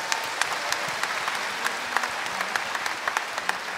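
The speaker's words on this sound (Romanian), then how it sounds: "Aplaudați-i!" An audience at a tenth-anniversary church gathering in Bucharest claps, a steady, moderately distant round of applause with no voices over it.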